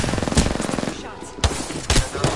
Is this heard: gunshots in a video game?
yes